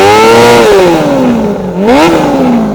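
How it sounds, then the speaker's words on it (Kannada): A 2003 Honda CB400 Hyper VTEC Spec III motorcycle revs loud and close, its engine note rising, falling back, then climbing sharply again in a second rev before easing off. "ನಾವ್ ಓಡಿಸ್ತಾ ಇರೋದು ಇವತ್ತು ಸ್ಪೆಷಲ್ ಗಾಡಿ. ಯಾವ್ದಪ್ಪ ಅಂತಂದ್ರೆ ಹೋಂಡಾ CB400"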